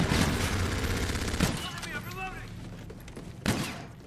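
Gunfire in Call of Duty: Infinite Warfare, Sabotage DLC multiplayer: bursts of shots with two sharp, loud blasts standing out, under a busy game mix with voices.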